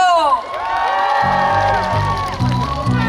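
A crowd cheers and applauds at an outdoor beach-park concert, with high whoops and shouts rising together near the listener. Loud bursts of clapping and cheering break out partway through and carry on to the end.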